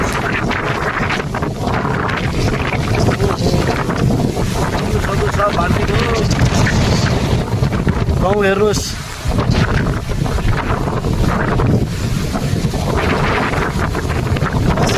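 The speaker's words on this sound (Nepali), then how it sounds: "यो हावा एकदमै तीव्र गतिमा आएको छ।" Strong storm wind roaring through a village under dark clouds, a loud continuous rushing gust buffeting the microphone throughout, with a person speaking over it.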